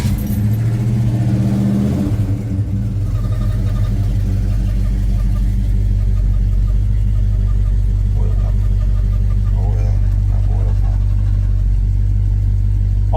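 A classic car being driven daily, heard from inside the cabin without sound deadening: a loud, steady low engine drone and road rumble, with a shift in engine note around two seconds, then continuous cruising hum.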